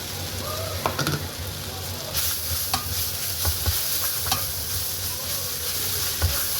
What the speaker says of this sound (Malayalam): പിന്നെ ഒരു 3 സവാള അരിഞ്ഞത് ഇതെല്ലാം കൂടി ഒന്ന് മിക്സാക്കണം